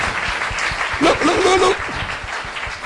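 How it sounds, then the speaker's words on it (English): Audience applause at the opening ceremony of an international meeting, a short burst of clapping from the room with a voice speaking briefly over it and a hint of laughter. "Another applause, please."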